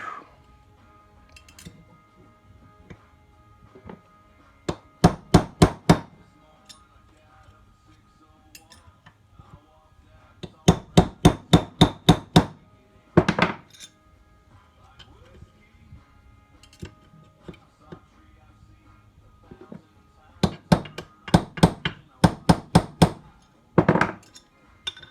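Sharp metallic taps drive a fork seal into a cartridge-style fork on a 2016 Honda CBR1000RR, arriving in quick bursts of rapid knocks separated by pauses, with quiet speech in the gaps.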